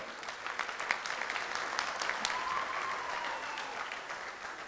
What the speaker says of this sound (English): If you agree, you clap